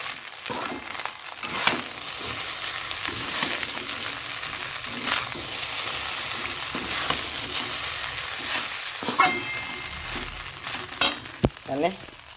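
Leftover rice stir-fried in a pan, with a constant sizzle and repeated scraping and stirring strokes of a utensil, plus occasional metallic clinks toward the end.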